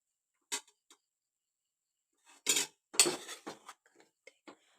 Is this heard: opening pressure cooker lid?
yes